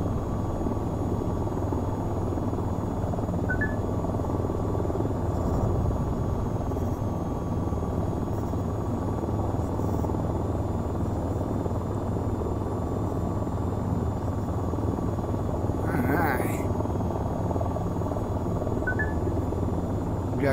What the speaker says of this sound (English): I'm not super good with the chopper, but my biggest problem is going to be landing